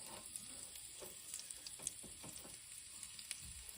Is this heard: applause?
no